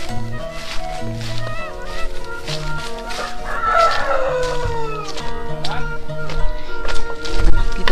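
Chickens cluck and squawk close by at a rural forest hut, with a rooster-like crow rising in the middle, over a busy outdoor background with music-like tones.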